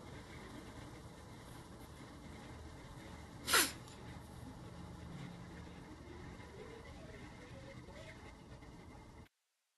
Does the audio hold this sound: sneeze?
yes